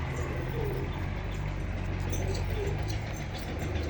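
Pigeons kept by a fancier coo softly and repeatedly over a steady low hum of background noise, with no clear voices.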